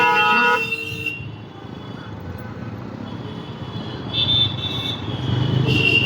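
A scooter horn honks a few times over steady traffic and engine noise, nearby and fairly loud.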